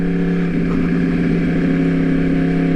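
Engine of a 2012 Yamaha R1 motorcycle running steadily, a continuous throaty hum with a strong low rumble, close and loud throughout, with no speech.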